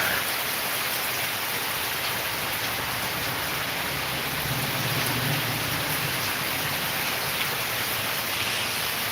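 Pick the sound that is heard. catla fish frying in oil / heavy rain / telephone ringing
heavy rain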